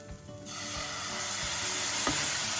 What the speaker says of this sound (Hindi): तो हमें थोड़ी देर इसको अच्छे से भूनना है।